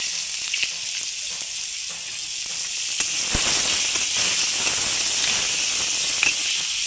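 Chopped onion drops into hot oil with a halved bay leaf for a fish-head drumstick curry, a loud, steady hissing sizzle with faint crackles and a brief knock midway, close by and without talk.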